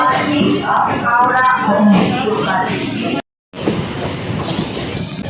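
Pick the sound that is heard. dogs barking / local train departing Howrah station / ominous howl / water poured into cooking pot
local train departing Howrah station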